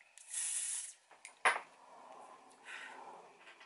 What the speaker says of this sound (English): So I'll spray that away from my face.